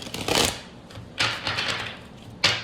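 Tarot cards are riffle-shuffled for a reading, giving three crisp, rapid fluttering bursts close by, each ending abruptly, with brief quiet gaps between them.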